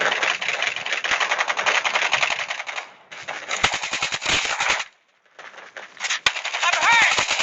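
Assault rifle fire in the mobile shooter Call of Duty Mobile comes as rapid, loud sustained bursts with a short gap, clipped game voice callouts mixed in.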